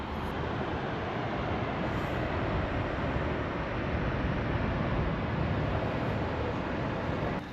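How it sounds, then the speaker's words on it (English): Steady, dense rumble of the Belgian coast tram to Ostend in motion, wheels and rails droning continuously from inside the car with no pauses. "we're taking back coast tram to Ostend"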